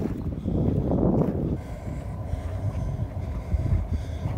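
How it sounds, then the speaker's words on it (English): Bale wrapper working in the background at a grassland machinery show, a continuous low mechanical rumble and drone with wind buffeting the microphone, no voices. "Then we have a bale wrapper"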